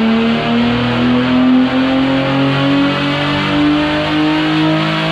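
A Honda B-series LS VTEC engine revs hard and close, holding a loud, steady high-rpm drone with its pitch climbing slightly across the whole stretch and no talking.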